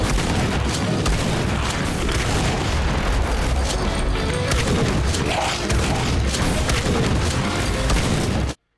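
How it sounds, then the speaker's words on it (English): Heavy, booming shotgun blasts from the video game Supplice, loud and dense with little break. The reports overlap into a continuous roar over about nine seconds, then cut off abruptly. "just listen to this shotgun"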